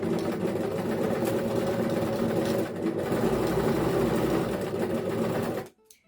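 Sewing machine stitching a sleeve into stretch knit fabric, a continuous close whirring run with a brief dip midway, stopping abruptly near the end.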